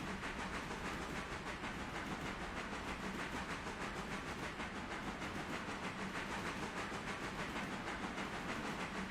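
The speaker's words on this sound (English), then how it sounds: "Gotta get used to the sound of the rails, I guess." A steady rolling rumble with a faint hiss of a steam locomotive running along rails in the video game Railroader, continuous and even throughout with no talking.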